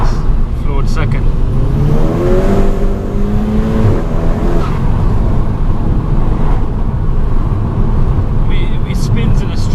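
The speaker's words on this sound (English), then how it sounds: "Check this second gear pull out, guys. Floored second." A 350 bhp VW Golf GTI pulling flat out in second gear, heard from inside the cabin: a loud, continuous engine roar with a rising tone over several seconds, then steady road and engine drone.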